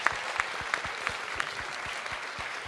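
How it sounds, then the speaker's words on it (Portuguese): An audience applauding at the close of an education talk, a fairly faint, steady patter of clapping hands, with a few sharper claps standing out at a regular pace. "Palmas para vocês."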